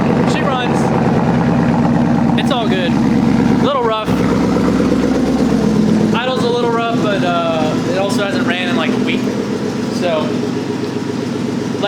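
An engine idles roughly, a loud uneven mechanical rumble that keeps steady throughout, with a person talking over it at several points.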